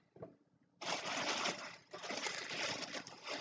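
A home sewing machine stitching in a steady whirring run, starting abruptly after a short quiet moment, briefly pausing midway and then resuming, close and fairly loud.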